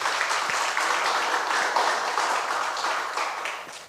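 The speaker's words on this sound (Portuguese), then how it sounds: "Dê uma salva de palmas ao Senhor." A church congregation applauds at the close of a worship service, giving a sustained, even wash of clapping from many hands that fills the whole stretch without pause.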